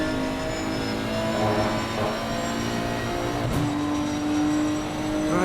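GT3 race car engines in a PC racing game at the Nürburgring, a dense sustained whine of several engines with shifting tones and a brief sharp dip mid-way, loud and continuous with no talk.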